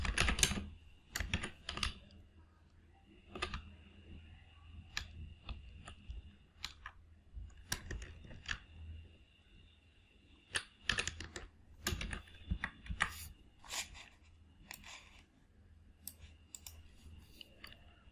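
Steady, fairly quiet typing on a computer keyboard, with irregular bursts of key clicks and short pauses, no voices.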